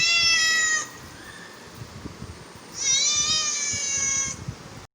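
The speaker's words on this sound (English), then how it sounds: "How does the cats do?" Two long, drawn-out cat meows, loud and near, separated by a pause with faint background noise.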